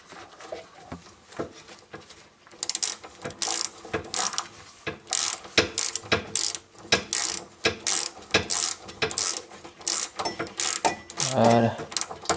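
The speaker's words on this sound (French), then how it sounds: "Ensuite je vais finir de desserrer les vis qu'il y a derrière" Ratchet loosening screws on the rear brake of a Renault Twingo 1, a close series of rapid clicking bursts repeated in steady rhythm with brief pauses between strokes.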